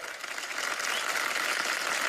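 A live comedy show audience breaks into steady, dense applause, many hands clapping at once, rising slightly and holding loud for the whole moment without speech over it.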